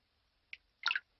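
Two water drips from a leaking roof in a rainy-house cartoon, a short light drip followed by a fuller, splashier plop, both close and isolated against near silence.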